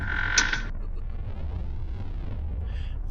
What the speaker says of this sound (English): I rushed over to James's room and creaked the door open